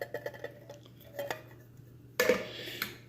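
Canned beans are added to an Instant Pot for chili cheese mac, with a few light metallic clinks and taps followed by a sudden close scrape and clatter of the can against the pot.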